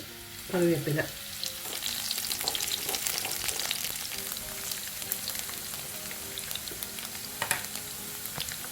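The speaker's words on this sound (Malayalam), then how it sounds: "മുളകും കായും കൂടെ ആദ്യം വറുത്ത് മാറ്റുന്നുണ്ട്" Coconut oil sizzles and crackles steadily as chillies fry, with a brief clink of a utensil at the start and occasional stirring scrapes.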